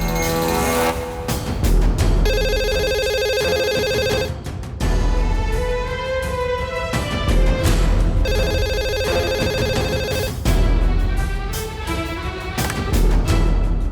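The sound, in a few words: landline telephone ringing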